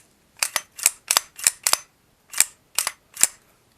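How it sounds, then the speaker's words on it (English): The full-length guide rod ring slides under the barrel of a Wilson Combat 1911 Para Expert, giving about eight close, sharp metallic clicks that come mostly in quick pairs with short gaps between them. "I can obviously hear this ring sliding underneath the barrel"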